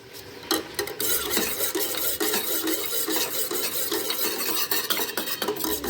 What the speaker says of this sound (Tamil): நல்லா மிக்ஸ் பண்ணி இப்போ நம்ம இதோட இது ஊற்றிக்கலாங்க